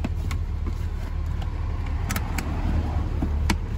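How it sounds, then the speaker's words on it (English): A car drives along the road with a steady interior engine and road rumble, plus a few faint clicks and rattles. "We're driving now to the grocery store."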